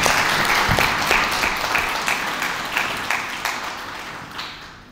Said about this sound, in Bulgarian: Затова моля за вашите аплодисменти.